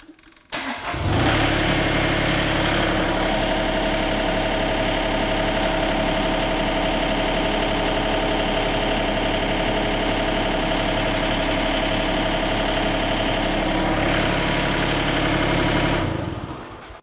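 The engine of a Toro Dingo TX 1300 compact utility loader starts and settles into a steady, loud idle running close by for over fifteen seconds before shutting off, with no talk over it.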